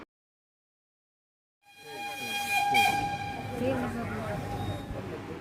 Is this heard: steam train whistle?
yes